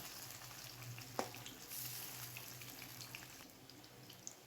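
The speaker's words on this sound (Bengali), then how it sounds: "এখন ভালোভাবে একদম মুচমুচে করে ভাজা হোক, তখন তুলে নেব।" Potato and carrot pakoras fry in hot oil, giving a faint, steady sizzle with a few soft pops and no talking.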